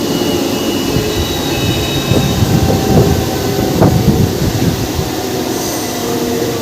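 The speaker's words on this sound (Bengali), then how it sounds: "পুরী হাওড়া ধৌলি এক্সপ্রেস।" The Puri–Howrah Dhauli Express train runs loud and steady on the rails, a continuous low rumble of wheels and carriages with rhythmic clatter and faint metallic squeals, heard close with no talk over it.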